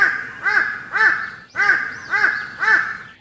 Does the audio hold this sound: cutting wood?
no